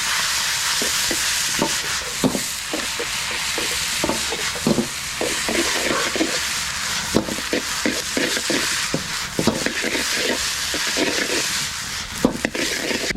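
Blanched rice noodles and vegetables are stir-fried in a hot wok with oil and red pork, a steady sizzle broken by repeated scraping and clattering spatula strokes at close range.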